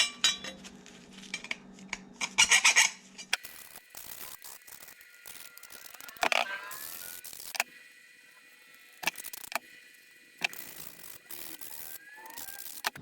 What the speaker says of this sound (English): I'm just gonna go ahead and break those off. Use my file where I need to.